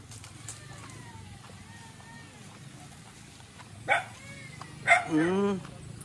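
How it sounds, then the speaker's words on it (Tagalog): A dog barks a few times at a distance, with sharp yelps standing out over faint outdoor background noise. "May aso. May aso pala."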